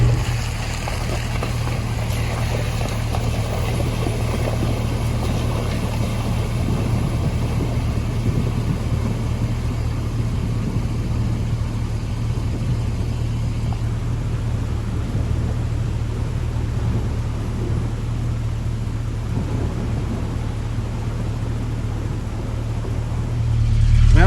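Steady low engine rumble runs continuously throughout, a vehicle droning along at constant pace with no voices.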